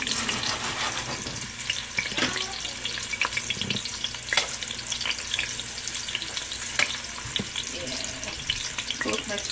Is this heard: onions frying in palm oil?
yes